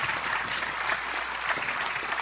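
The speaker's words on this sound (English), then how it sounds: "we should give her a huge round of applause" An audience at a biodiversity summit applauds a prime minister: a continuous, full round of clapping that holds steady throughout.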